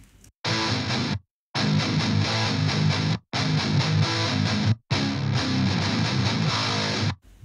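Heavily distorted metal rhythm guitar through an MLC amp, dense chugging riffs in three loud bursts separated by short silent gaps, close and full-bodied with bright sizzle on top.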